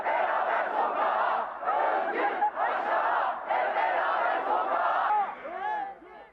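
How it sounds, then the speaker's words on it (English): Dense protest crowd clashing with riot police outside Istanbul University, a continuous roar of shouting voices that swells and dips, with scattered whistles and higher cries rising near the end. "Footage shows riot police clashing with crowds, using pepper spray to break up protests outside Istanbul University."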